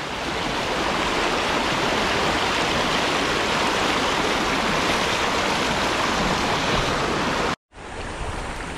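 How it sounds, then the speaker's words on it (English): Rushing river rapids on Brushy Creek, a steady loud broadband roar of churning water that fills the clip close up and drops out briefly near the end. "We're ripping down the rapids."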